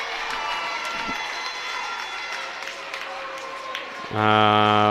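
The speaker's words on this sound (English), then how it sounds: "the crowd just started kind of clapping" Crowd clapping and cheering at a Class 1A regional high school volleyball match, St. Albert at Riverside, a steady gym crowd noise with scattered claps that ends in a loud sustained buzzer.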